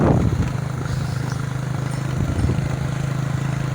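A motorcycle engine runs steadily throughout, a low continuous drone with a slightly rough pulse, close and fairly loud with no talk over it.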